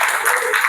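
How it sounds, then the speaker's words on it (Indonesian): Classroom applause for a student group, a brief, dense patter of many hands clapping together at fairly loud, even volume. "Silakan duduk dan kita berikan aplaus kepada kelompok 2"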